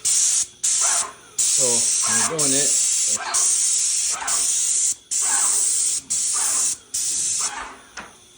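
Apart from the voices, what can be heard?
paint sprayer spraying basement drywall ceiling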